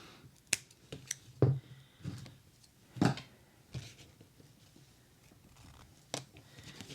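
Scissors cutting material in a quiet room, several sharp, separate snips spaced irregularly, close and fairly faint, with no talking.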